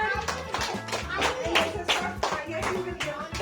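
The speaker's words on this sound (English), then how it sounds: "Clap for Yuvan." Small group at a home birthday party clapping for a child after a quiz question, steady overlapping claps over a bright vocal melody, lasting a few seconds.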